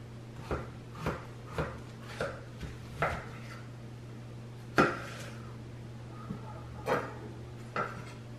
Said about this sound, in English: you're going to slice it down the middle lengthwise like this